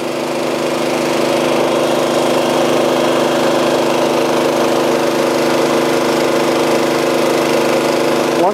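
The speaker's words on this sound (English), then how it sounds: "the cutters are rotating around the back side of the pipe at a slow rate of speed" A pipe cutting and beveling machine turns its cutters slowly around a PVC pipe, giving a steady, loud motor drone with an even mechanical hum throughout and no talking.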